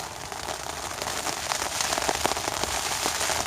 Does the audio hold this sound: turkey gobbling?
no